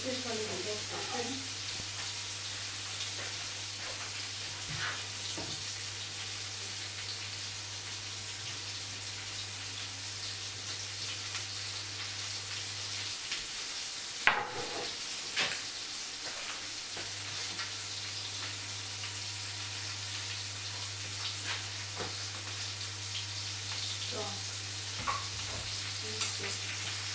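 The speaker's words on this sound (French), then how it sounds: "Vous voyez comment ma nourriture bouillit là-bas" Cauliflower boiling in a pot on a stove gives a steady, close bubbling hiss that runs unbroken throughout, with a low hum underneath and a few faint clinks.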